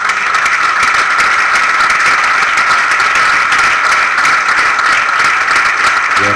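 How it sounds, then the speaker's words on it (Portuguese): Church congregation at a men's service applauding, a dense continuous wash of clapping that stays loud and steady throughout with no voices on top. "Então aplauda Ele nessa hora."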